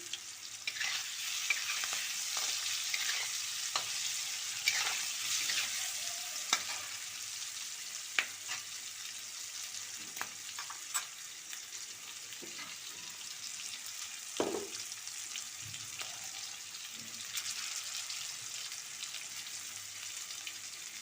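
Potato pieces and green peas fry in oil for a papad curry, a constant soft crackling sizzle with frequent spatula scrapes and taps against the pan throughout, close but fairly quiet, with no one talking.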